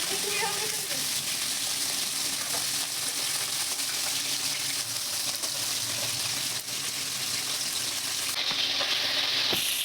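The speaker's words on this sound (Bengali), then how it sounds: "মাছগুলো ভেজে নিচ্ছে এক এক করে দিয়ে" Pieces of bata fish fry one by one in hot oil in a home kitchen, a steady close sizzle and crackle running throughout, with a brief splash near the start and a soft hiss late on.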